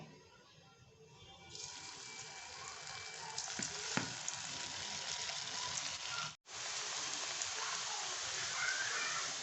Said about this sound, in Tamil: இப்போது நம்ம உருளைக்கிழங்கு போட்டு ஃப்ரை பண்ணி எடுத்துடலாம்